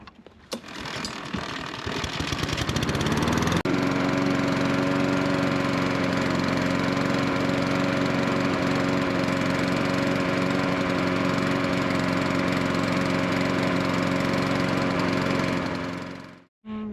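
A lawn mower engine with no drain plug starts with sputtering pulls, then roars into a steady, loud, continuous run with a constant mechanical hum until it cuts off abruptly at the end.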